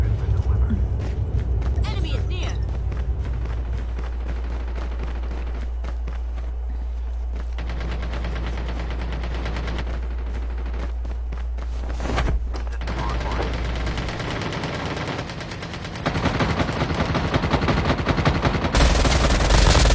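Bursts of rapid automatic weapon fire and single gunshots from a video game, loud and repeated in clusters with brief gaps, alongside a player's voice and mechanical clicks.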